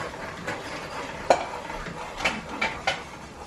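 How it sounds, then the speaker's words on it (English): Stirring in a pot as flour is added to melted ghee, a few soft scrapes and clinks of a spoon against the pot rising over a steady low background, with one sharper knock partway through. "Auntie Chandra is going to stir as I'm adding it in."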